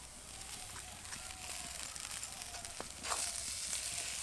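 Mashed potato being sautéed with spices in a kadai gives off a faint, steady sizzle, broken by occasional soft scrapes and taps of stirring, heard close and quiet with no voices.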